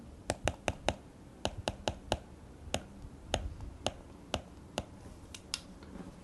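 Sharp, light taps of a OnePlus Stylo pen tip on a glass tablet screen, about fifteen in irregular bursts, close and crisp with no talking.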